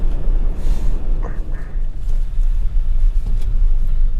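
Hyundai Elantra 1.8L petrol car cruising on an open road, heard from inside as a steady, loud low rumble of engine and tyre noise with no break, a few faint thumps passing over it.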